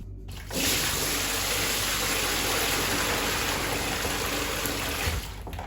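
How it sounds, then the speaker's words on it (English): Water gushing steadily out of an Indesit washer dryer into a bucket while draining it for an F05 error, a loud continuous rushing pour lasting several seconds with no talk. "all of the water, unfortunately, is going to have to come out into this bucket as much as I can"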